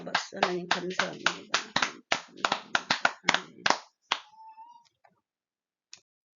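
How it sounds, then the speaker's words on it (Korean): Congregation clapping in praise during an early-morning church prayer service, about a dozen crisp claps in a steady rhythm that stop abruptly, followed by near silence and one last stray tap. "하나님께 영광의 박수."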